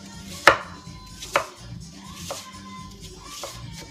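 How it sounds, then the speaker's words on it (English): A knife chopping apple on a cutting board, a few sharp, close knocks spaced about a second apart, the first two loudest, followed by softer taps, with no talk over them. "so trying to get flat surfaces for chopping."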